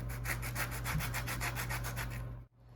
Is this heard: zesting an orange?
yes